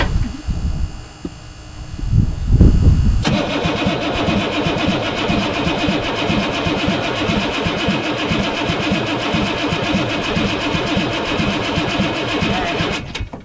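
A 1983 Chevy squarebody diesel truck engine cranks for about ten seconds with a loud, steady, rhythmic starter churn that stops abruptly, after a brief stretch of clatter and voice at the start.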